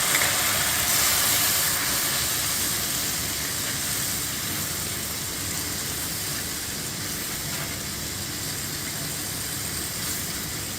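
Prawns coated with spices, garlic, chilli, turmeric, coriander, cumin and salt hit onions frying red in a pan and set off a loud, steady broadband sizzle. It runs on with no break and fades slightly toward the end.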